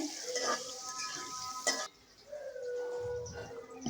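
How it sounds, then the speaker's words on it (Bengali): Potatoes sizzling in a pan and stirred with a few scrapes while turmeric and salt go in for a Bengali fish-belly and plantain-potato curry, a steady close frying hiss with faint tonal background sounds. "আবারও আলুগুলো একটু নেড়ে চেড়ে নিচ্ছি"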